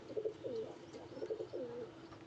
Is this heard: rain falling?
no